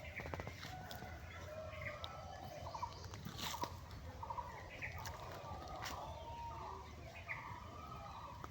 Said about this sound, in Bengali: এখানে ছোট বাচ্চা উঠানো হয়েছে সোনালী মুরগির।